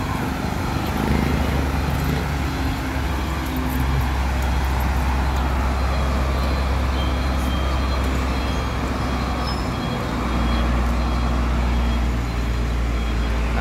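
Asphalt paving work with trucks on Sanciangco Street, Cabanatuan City, Nueva Ecija: a steady, loud rumble of heavy engines and road machinery with broadband roadside noise, continuous throughout with no breaks.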